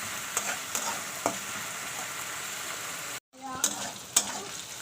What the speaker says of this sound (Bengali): পেঁয়াজটা ভালো করে আমি লাল করে ভেজে নেবো।